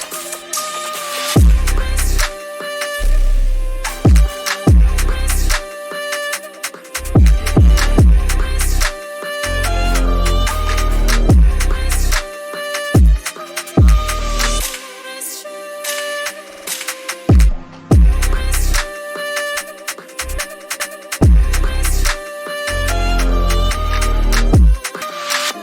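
FL Studio drill beat built on 808 melody samples, with two 808 basslines layered together for deep sliding sub bass under bright melodic loops and crisp percussion, loud and steady throughout with brief dropouts.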